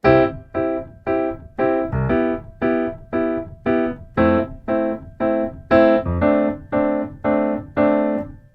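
Piano chords repeat in a steady swinging rhythm, about a dozen evenly spaced hits with short pickup notes slipping in between, played alone.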